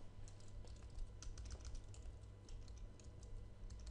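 Fingers type on a computer keyboard close to the microphone, a quiet, steady stream of soft clicks over low background hum, with no voices.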